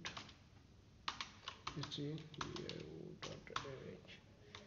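Typing on a computer keyboard while writing code in a Vim editor, with quick irregular bursts of clicking keys heard faintly and close, alongside someone talking.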